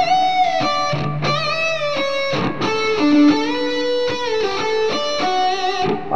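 A distorted electric guitar plays a fast lick close to full speed, with rapid runs of notes, bends and a sustained low note, loud and dense with effects, no voices.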